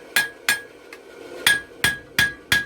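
Seven sharp hammer blows ring out on steel while forging the taper of a bottle opener, spaced roughly evenly with one faint tap between, each strike bright and ringing with a short decay, close and clear with no talking.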